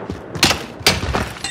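Gunfire in the video game Call of Duty: Warzone, a few quick, punchy shots spaced unevenly over a second and a half, close and fairly loud.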